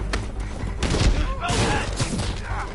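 Dense, loud bursts of gunfire in a Spider-Man video game crackle almost continuously across the moment, with heavy thuds mixed into the barrage.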